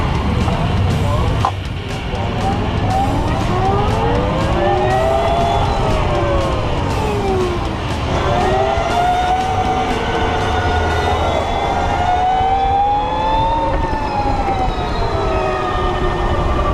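A Harley-Davidson LiveWire electric motorcycle accelerates hard, its loud whining electric motor sweeping up and down in pitch over steady wind roar, heard close throughout.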